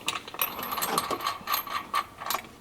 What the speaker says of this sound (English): I'm gonna take my 9/16 socket and I'm just gonna kind of get this snug